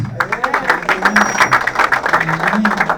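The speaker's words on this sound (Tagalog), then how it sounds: "Palakpak ulit sa kanila." An audience at a church gathering applauds, a steady wash of clapping hands close by with voices and a brief tone mixed in.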